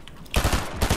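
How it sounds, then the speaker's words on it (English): Rapid automatic gunfire in the video game Fortnite bursts in loudly after a brief quiet moment, a fast rattling string of close shots filling the second that follows. "Someone's shooting you?"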